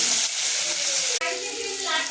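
Onion dropped into hot oil for an egg curry, already sizzling after eggs were fried, gives a loud, close crackling hiss with a brief dip and fresh burst of sizzle midway.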